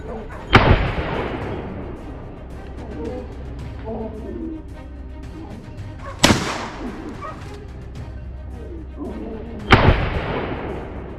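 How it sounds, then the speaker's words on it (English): Three loud gunshots on a wild boar hunt, several seconds apart, each with a sharp crack and a long echoing tail, amid faint outdoor background noise. "a gunshot rings out"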